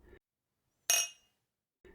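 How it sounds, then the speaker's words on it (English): Two wine glasses touch in a single close, crisp clink during a toast, and the bright ring fades quickly. Faint soft narration sits just before and after it. "clinking her glass with his"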